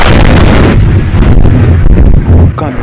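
A tremendous, deafening blast of lightning striking a television during a thunderstorm, followed by a rumbling, crackling roar that fades slightly but stays loud.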